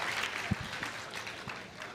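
A few claps from players at the 2024 US Open pickleball championships, one sharp clap standing out amid scattered softer ones over steady arena background noise.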